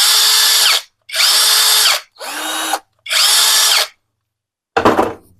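A JPT brushless cordless drill spins up at high speed in four steady bursts with brief gaps, loud and close, then a short clattering handling noise at the end, with no talk.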